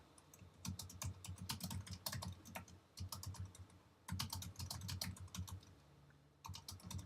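Rapid keyboard typing in uneven bursts of clicks and taps, close up, with short pauses between flurries.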